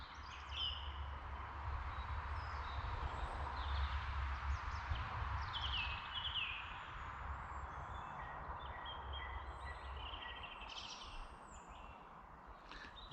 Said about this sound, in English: This woodland's alive with birds.